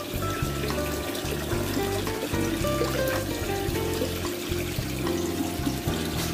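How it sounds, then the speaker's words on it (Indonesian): Water poured into a container while mixing a koi pond treatment, a continuous close splashing pour that stays loud and steady throughout. "Sekarang kita tambahkan sedikit lagi airnya."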